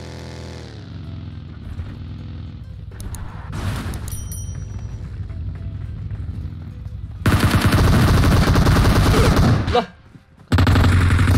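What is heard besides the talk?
gunfire from a video game, Tencent shooter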